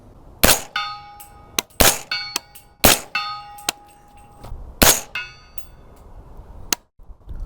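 Bullets strike a steel target around 50 yards out on a night-vision shooting range, making a series of sharp metallic clangs with ringing tails, about a dozen hits at irregular intervals, some close together.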